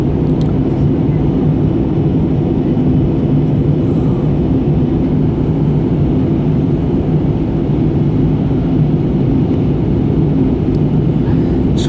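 Airbus A320 jet engines in flight after power is reduced, a loud, steady low roar and whir heard from inside the cabin, unchanging for the whole stretch.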